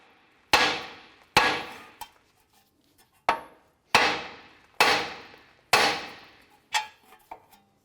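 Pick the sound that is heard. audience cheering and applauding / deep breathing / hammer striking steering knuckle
hammer striking steering knuckle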